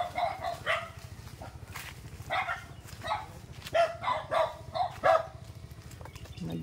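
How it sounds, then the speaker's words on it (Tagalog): Several dogs bark on a rural farm in a Philippine province, sharp, repeated barks and yips coming in irregular bursts at moderate distance over a low steady background hum. "Madaming aso."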